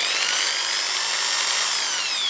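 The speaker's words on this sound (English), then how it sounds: "holding on to the pickup, you're going to drill through the plastic at the side of the pickup" Power drill with a 2 mm bit boring through the plastic edge of a guitar pickup into the wooden body of a TL-1 style guitar, a steady high whine held close and loud throughout.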